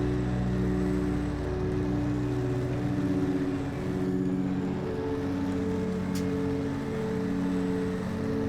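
Heavy V12 Detroit diesel truck engine on 57-inch tires in SnowRunner, a steady loud low drone holding throughout with a faint brief click near the end.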